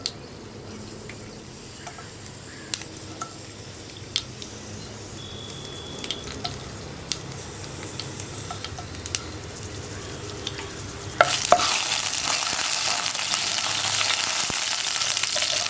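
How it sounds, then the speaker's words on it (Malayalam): Mustard seeds spluttering in hot oil with dried chillies, sharp scattered pops over a low sizzle that swells into a loud, dense hiss near the end. "അപ്പോൾ നമ്മുടെ കടുക് പൊട്ടിക്കൊണ്ടിരിക്കുന്നുണ്ട്."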